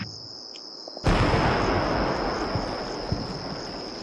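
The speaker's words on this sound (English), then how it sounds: "That was the sound of my breach team doing their thing." A breach team's explosive charge in Combat Mission: Shock Force 2 goes off with a sudden loud burst after a quiet stretch, then a long broad rumble fades away beneath a steady high whine.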